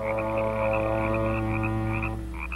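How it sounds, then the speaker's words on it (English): A bullfrog croaks in a deep, continuous, resonant drone with a rapid throbbing pulse, loud and close, with no talking. "Listen, that's the bullfrog."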